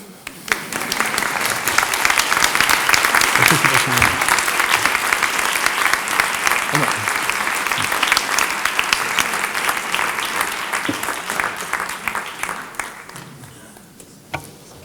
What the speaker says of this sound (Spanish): Y ahora es cuando ustedes aplauden.